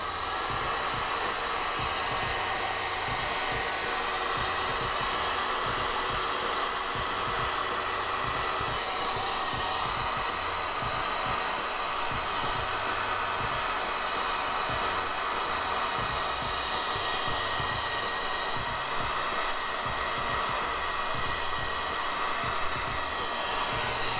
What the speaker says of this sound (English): Now I'm gonna take a heat gun